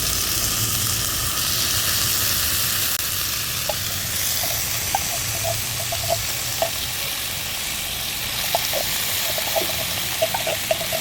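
Corned beef frying in a pan with onion and garlic gives a continuous close sizzle with scattered light clicks and stirring scrapes, no voices.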